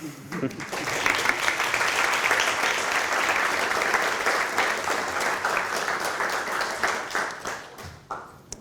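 An audience at a software demonstration claps for the developers, a sustained, full burst of applause that rises quickly, stays loud and even for several seconds, then tapers off at the end.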